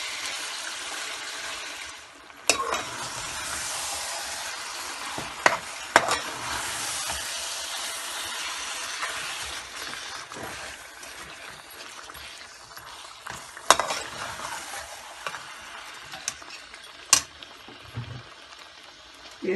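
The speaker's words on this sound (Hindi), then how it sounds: "अभी हम इसमें थोड़ा सा पानी डालेंगे।" A pan of pasanday keeps up a loud, steady sizzle while water goes in, with scattered clinks of a spoon against the pan throughout.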